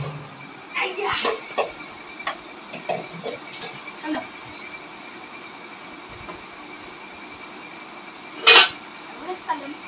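A child carries freshly washed dishes from a balcony into the kitchen, giving sporadic light clinks of pots and plates and one sharper clatter near the end, while people talk nearby.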